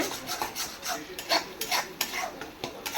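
Spice paste fried in oil and stirred in a pan, a string of scraping, rubbing strokes in an uneven rhythm, close and moderately loud, no voices.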